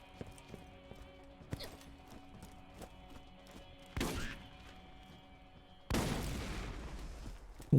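Gunfire in the video game Borderlands: quiet sharp shots repeat in a steady rhythm, then two louder, noisier bursts of fire rise up over a dim background.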